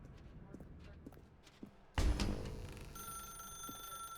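A telephone rings in The Stanley Parable, a sudden loud burst of ringing with steady high bell tones sustained over a dim room ambience after a quiet stretch.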